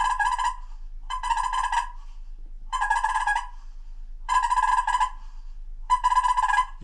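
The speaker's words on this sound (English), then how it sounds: "You can click it together and get a nice purr by slowly twisting the call." Five rattling, purring bursts from a Keystone Calls MagnaTwist slate turkey call, made by slowly twisting the call, each about half a second long, spaced evenly with silent gaps, clear and close.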